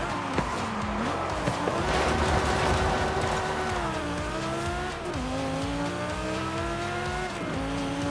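A straight-six car engine in Forza Horizon 5 drones steadily throughout, its pitch rising and dipping with gear changes and throttle shifts, loud and continuous with no talking.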